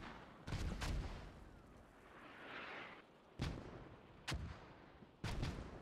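Heavy gunfire in the Squad military shooter game, with a compound assault underway: several loud, booming shots arrive in separate bursts a second or so apart over a rumbling battlefield background.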